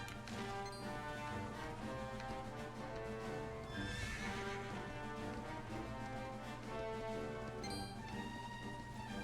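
Horses gallop and neigh in a video game, with whinnies and clip-clopping hooves over continuous game music, loud and steady, with no speech.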